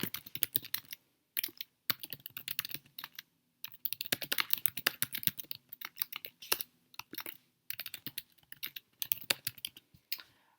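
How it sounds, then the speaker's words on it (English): Typing on a computer keyboard, bursts of quick close key clicks broken by short pauses, steady and alone with no talk. "then I will type right in here"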